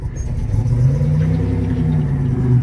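A Buick Grand National's engine idles roughly, a steady low rumble with an uneven pulse running close and loud from start to finish.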